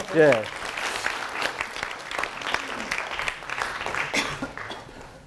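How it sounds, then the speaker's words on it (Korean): Audience applause at a lecture quiz, a dense burst of clapping from a seated crowd that swells in the first moment and then holds steady, with voices mixed into the noise throughout. "박수 한번 해주십시오, 우리."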